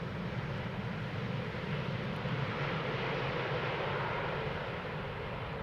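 An airliner jet engine at Schiphol Airport, a steady broad roar heard at a distance, with a constant level and no talk.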